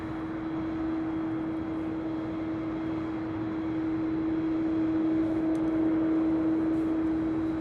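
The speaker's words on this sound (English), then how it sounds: "Do you guys think that's a Dreamliner making that noise?" A Boeing 787 Dreamliner at LAX produces a steady, moderately faint engine drone with a strong sustained tonal whine over a broad hiss, gradually building slightly, with no voices.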